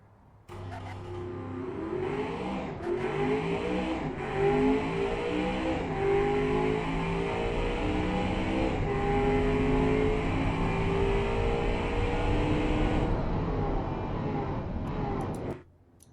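A 2015 supercar laps a test track in the Automation driving game, its engine revving and climbing through gears in repeated rising sweeps, loud and continuous for about fifteen seconds before cutting off.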